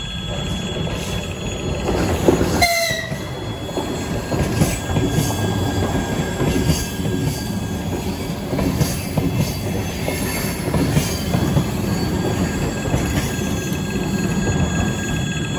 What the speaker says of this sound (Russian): Электричка идет.